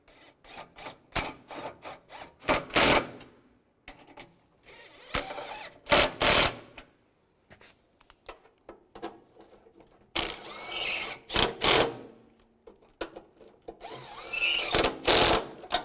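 A hand ratchet tightens bolts on a 2006-2011 Cadillac DTS during radiator replacement, giving rapid close clicking bursts in several runs with short pauses between them.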